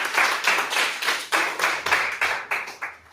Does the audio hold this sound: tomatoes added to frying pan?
no